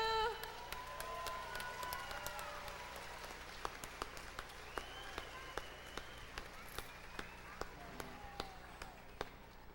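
A crowd applauds at a university lu'au, with steady clapping that runs the whole stretch and some sharper individual claps standing out. Faint voices may sit underneath.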